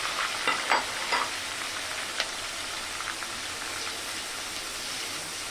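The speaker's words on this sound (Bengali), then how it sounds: "এটা ভালো করে কষাই নিতে হবে পেঁয়াজটা লাল লাল হয়ে আসলে" Onion paste made from eight to ten blended onions fries in a pan for egg korma. A steady sizzle runs throughout, with a few sharp scraping stirs near the start.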